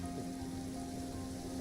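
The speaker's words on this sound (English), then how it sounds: "It's raining." Steady rain falling in a game scene, an even hiss of raindrops on surfaces under a faint low musical drone, continuous and without voices.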